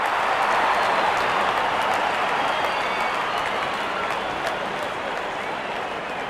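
A dense, steady roar of a cricket stadium crowd in the Real Cricket 24 video game, India versus Australia, cheering loudly and continuously with a slight fade toward the end.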